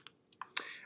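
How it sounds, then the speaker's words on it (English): A few sharp key clicks on a computer keyboard, pressing delete or backspace to remove a selected object in Illustrator, quick and close with short gaps between presses. "You select it and then hit delete or backspace on your keyboard."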